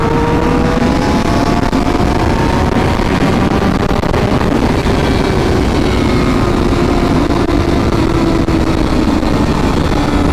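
A 2007 Suzuki GSX-R750 sport motorcycle engine screams steadily higher as it accelerates hard in third gear, the exhaust loud and continuous throughout.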